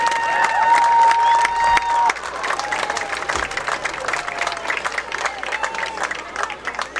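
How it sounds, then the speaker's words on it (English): Crowd applause and cheering fill the stands at a high school football game for the seniors and their parents, loud at first and then settling into steady clapping with background crowd murmur. "another round of applause for all our seniors and their parents"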